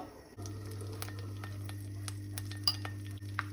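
Curry leaves dropped into hot oil for Goan beef balchao, giving a steady close sizzle with a low hum beneath and a few faint clinks of a utensil against the pan.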